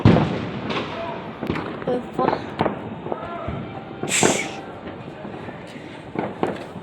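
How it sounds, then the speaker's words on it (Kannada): Sharp New Year firecracker bangs burst repeatedly at a distance outside a home, scattered irregularly, with people talking and shouting nearby. "ಅಲ್ಲೋಡಿ ಪಟಾಕಿ."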